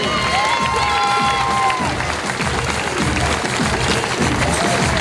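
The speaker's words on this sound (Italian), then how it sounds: "Facciamo un applauso per un applausone!" Crowd at an outdoor village palio festival applauds and cheers, dense sustained clapping with children's shouts and whistles riding on top, loud and close for several seconds.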